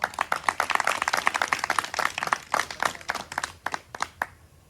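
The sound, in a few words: audience clapping for a team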